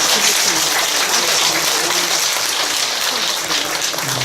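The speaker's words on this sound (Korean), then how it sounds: "다시 한번 박수를 좀 쳐드리겠습니다." Loud, dense applause from an audience at a Buddhist dharma assembly, a continuous close wash of many hands clapping that holds steady throughout.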